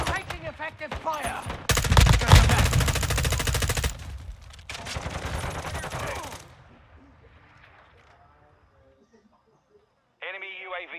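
Automatic gunfire in Call of Duty Modern Warfare 2 (2022), loud rapid bursts over the first several seconds that fade into quieter game sounds, with voices talking over the shooting.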